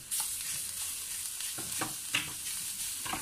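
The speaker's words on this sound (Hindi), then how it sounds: "इसे भी हम 1 मिनट के लिए भून लेंगे थोड़ा सा" Coriander and green chilies sautéing with spices in a pan for a less-oil stuffed tinda (bharva tinda) dish: a steady soft sizzle with occasional stirring scrapes and clinks, close and alone, with no talking.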